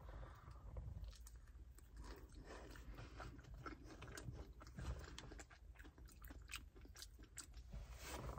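Close, wet chewing and soft crunching as someone eats a Taco Bell Mexican Pizza with hot sauce, a bean and cheese dish, with quiet, irregular bites and no speech.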